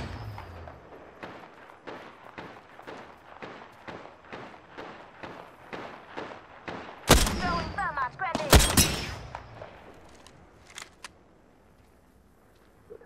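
Rapid gunfire in the battle royale shooter Apex Legends: a steady string of evenly spaced shots, then louder, denser bursts with sharp cracks near the middle, fading to sparse pops, with brief talk between shots.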